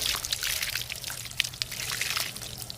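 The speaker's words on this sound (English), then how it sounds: "I'm going to get the loose dirt off of the socks by just running them in water for a little bit" Running water pours and splashes over wool socks rinsed by hand during off-grid laundry, a close, steady trickling stream with small irregular splashes and drips throughout.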